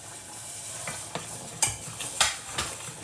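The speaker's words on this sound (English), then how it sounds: "you've got to keep stirring it" A spoon stirs milk into a butter and corn flour sauce in a pan, making a soft background simmer broken by a few sharp scrapes and clinks against the pan.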